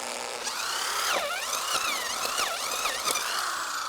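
Power drill turning an auger bit boring into garden soil for planting daffodil bulbs, a whining motor that repeatedly dips and rises in pitch as the bit loads up, close and steady with no talk.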